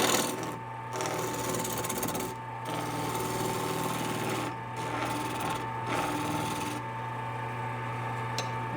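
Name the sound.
wood lathe turning a small lidded box, gouge cut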